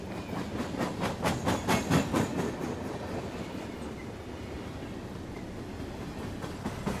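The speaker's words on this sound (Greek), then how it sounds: "Το τρένο πέρασε με θόρυβο πλάι μου" A train passes close by on the open steppe, a loud rhythmic clickety-clack of wheels on rails at first, then settling into a steady rumbling roar that slowly fades.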